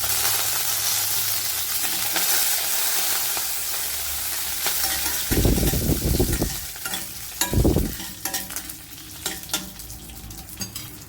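Dried red chillies and curry leaves hit hot tempering oil, and the sizzle bursts into two loud, crackling spurts over a steady background hiss.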